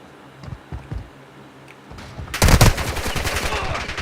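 Video game gunfire erupts partway through: after a few scattered single shots, a loud, dense burst of rapid automatic fire rattles on close by, with no talk over it.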